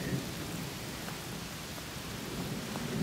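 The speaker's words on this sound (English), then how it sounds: "sounds like thunderstorms" Steady rain falls outdoors during a thunderstorm at a muddy building site, a dense continuous hiss with faint low rumbling underneath and no voices.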